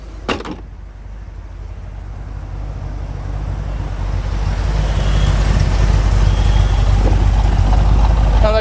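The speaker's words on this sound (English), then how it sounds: "Sounds like a Corvette. Got a nice little rumble to it." A 1973 Chevrolet Corvette T-Top idles from behind the car, its low, steady exhaust rumble growing louder and fuller over time after an early sharp click.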